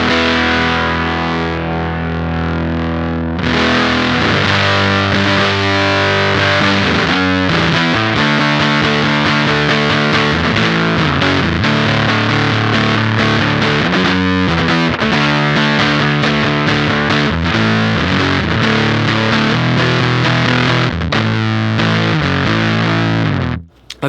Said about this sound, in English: As we start to increase the honey control, we're gonna get more and more fuzz.